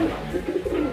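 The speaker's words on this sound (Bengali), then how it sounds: "প্রিয় দর্শক বন্ধুরা দেখতেই পাচ্ছেন কবুতরগুলি" Sirazi pigeons coo close by in a breeder's loft, giving a short run of soft, low, throaty warbling calls.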